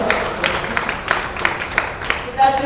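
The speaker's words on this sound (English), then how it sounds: "Big round of applause for the legendary Pooja Bhatt." An audience applauds the actress Pooja Bhatt at an awards felicitation, a run of distinct, fairly close hand claps with a few evenly spaced louder strikes standing out.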